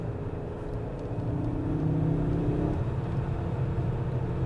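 A 2000 Lancia Kappa 2.4 20V on the road, its engine a steady droning hum with a slight rise in pitch partway through, heard continuously from inside the car with no talk.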